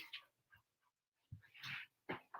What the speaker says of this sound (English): All right. Good boy. Yeah, good doggy. Good dog.